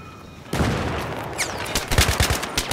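Video game gunfire in Battlefield 3: after a quiet opening, rapid bursts of automatic shots crackle in clusters, growing sharper and denser toward the end, with no talk.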